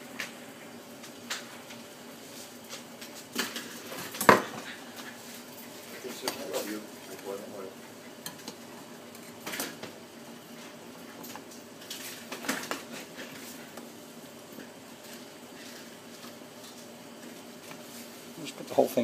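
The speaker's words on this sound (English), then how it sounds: "we're going to mix in the flour, and then we're just going to keep mixing and mixing and mixing" Flour is stirred into boiling churro dough in a home kitchen pot, heard as scattered scraping and clinking of a utensil against the pot at moderate distance, with soft thuds and background kitchen noise.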